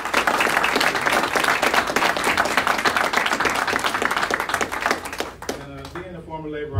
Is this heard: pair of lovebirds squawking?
no